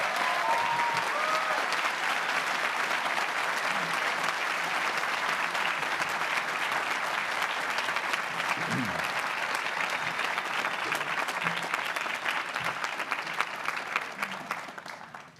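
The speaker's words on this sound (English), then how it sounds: "Please join me in a round of applause and appreciation for the dedication and skill" Long, steady applause from a school prize day audience, a dense wash of clapping that holds evenly for many seconds before tapering off at the close.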